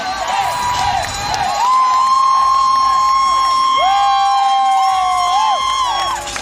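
A gymnastics meet crowd cheers loudly and continuously, with dense shouts, whoops and high children's screams rising in long sustained waves, close and filling the arena.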